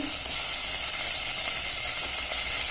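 Ingredients for a red lentil masoor dal curry fry in a pan with a close, continuous sizzle and hiss, steady throughout and without any talking.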